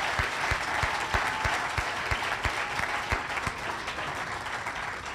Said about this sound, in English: I'd just like to have one more round of applause for Marge.